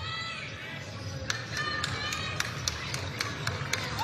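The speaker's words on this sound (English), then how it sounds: "You can hear his family with some claps in the background." A few people clap at a Boise State versus Air Force college basketball game in an arena, a run of sharp, evenly spaced claps over crowd murmur and a speaking voice.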